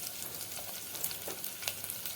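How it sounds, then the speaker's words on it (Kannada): Onion and garlic fry gently on a low flame for a quick lentil curry: soft, close crackling and sizzling with small pops scattered throughout, fairly quiet. "ಈರುಳ್ಳಿ ಸ್ವಲ್ಪ ಕಂದು ಬಣ್ಣ ಬರೋವರೆಗೂ ಹುರ್ಕೋಬೇಕು."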